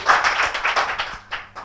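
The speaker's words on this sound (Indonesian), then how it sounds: "Tepuk tangan lagi dong buat I Love Pas TV." A talk-show audience claps for I Love Pas TV, a short burst of close, uneven hand claps that thins out and stops after a moment.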